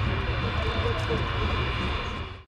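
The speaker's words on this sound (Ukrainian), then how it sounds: "Ан-225 спеціально довго і низько заходив на посадку." Continuous loud roar of the Antonov An-225, the world's largest aircraft, flying a long, low landing approach at Donetsk airport's new runway, a steady broadband engine drone that holds throughout and cuts off abruptly at the end.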